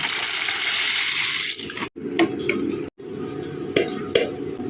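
Dry macaroni going into a pot of hot water on the stove, a broad watery rush and splashing that steadies, broken by a few brief gaps and soft knocks, fairly close.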